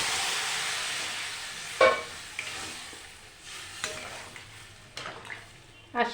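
Water is poured into a pan of sizzling spice masala cooked down with tomato for an amudi fish curry, sending up a few sharp bursts of hiss and steam over a steady frying crackle, close up.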